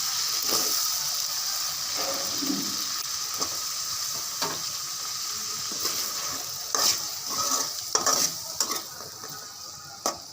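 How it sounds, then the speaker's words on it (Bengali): Potatoes sizzle steadily while being stir-fried in a pan, and repeated scraping and clinking of a metal utensil against the pan grows busier toward the end. "এখন আলুগুলো কষিয়ে নেওয়া হবে।"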